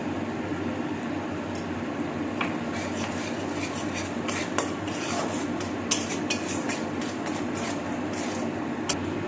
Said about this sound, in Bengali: এর সাথে দিয়ে দেবো কাঁচা লঙ্কা বাটা, দিয়ে আমরা একটু নাড়াচাড়া করে নেব।